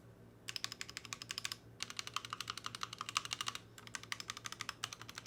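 Typing on an Akko ACR DIY keyboard with unlubed, factory-stock stabilizers, heard as steady, close bursts of crisp keystrokes in three runs separated by brief pauses, with no voices.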